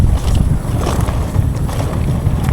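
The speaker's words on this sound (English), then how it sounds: "Quite windy still. Super windy." Strong wind buffeting a microphone outdoors at a mountain bike park, a steady low roar filling the whole clip with no speech.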